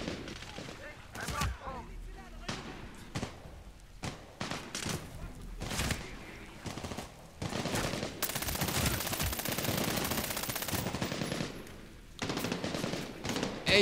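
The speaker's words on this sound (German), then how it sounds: "Ey, woher schießen die alle hier?" Gunfire in the Medal of Honor Warfighter video game, rapid bursts of automatic weapons and sharp single shots, dense and continuous, with a voice speaking between volleys.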